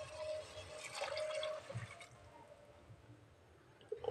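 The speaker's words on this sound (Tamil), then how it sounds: "இப்போ நம்ம இதில் வந்து எடுத்து வச்சுருக்க 1 கப் தேங்காய் பாலை சேர்த்துக்கலாம்." Coconut milk pours steadily into a pot for about a second and a half, then trails off into quieter sloshing and faint kitchen noise.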